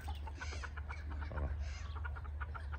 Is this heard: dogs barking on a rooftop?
no